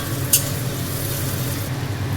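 Sliced onions frying in hot oil with cardamom for beresta, a steady close-up sizzle with a brief sharper crackle near the start, continuous and even throughout.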